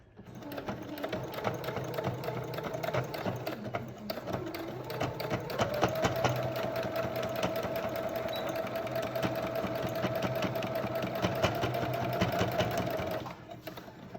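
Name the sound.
sewing machine stitching a fabric surgical mask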